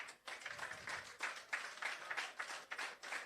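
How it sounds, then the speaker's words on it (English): Audience applause at a shelter recovery programme handing-over ceremony, steady dense clapping from a crowd filling the room for a few seconds with no talk over it. "Give Brandon a round of applause"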